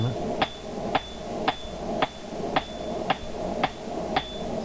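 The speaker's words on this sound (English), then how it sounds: "It's using the rounding hammer." A rounding hammer forging a steel dragon door pull on an anvil gives sharp, ringing metallic blows in a steady rhythm, about two per second, close and loud over a low background hum.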